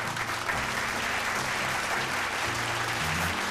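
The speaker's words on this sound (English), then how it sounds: "Give them a big round of applause" Steady applause from a quiz show audience for the competing teams, dense clapping sustained throughout, with a faint low voice murmuring underneath.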